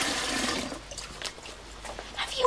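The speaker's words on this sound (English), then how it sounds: "Jolly lucky to have it coming out of the tap like this." Water running steadily from a household tap, a close, continuous hiss that eases slightly midway and then swells again, with no talk.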